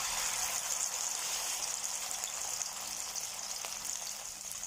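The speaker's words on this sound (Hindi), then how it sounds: "अब हम बाकी के पकौड़े जो हैं वो इसके अंदर डाल देंगे एक एक करके।" Keto mushroom pakoras, or fritters, fry in hot oil with a loud, continuous hissing sizzle that holds steady throughout and fades slightly near the end, with no voices.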